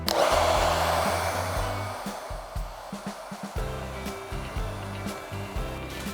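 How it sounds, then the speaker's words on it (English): A hair dryer blows with a loud steady whoosh that drops and sputters as it is moved around, close up. "Now we're gonna hit it with the blow dryer to add some volume."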